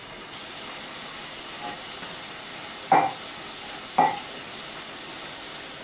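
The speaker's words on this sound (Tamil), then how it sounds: "எண்ணெயிலே உருளைக்கிழங்கு கொஞ்சம் நேரம் நல்லா வேகட்டும்" Potato pieces frying in hot oil for a potato fry, a steady hissing sizzle throughout, broken by two brief louder bursts as the pan is stirred.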